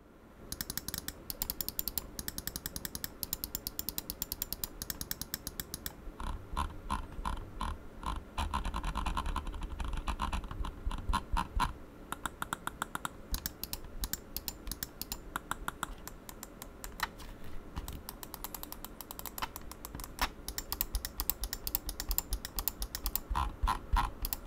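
Rapid plastic clicking of Logitech G303 Shroud Edition gaming mouse buttons, loud and close, in irregular bursts and quick runs with brief pauses, no talking.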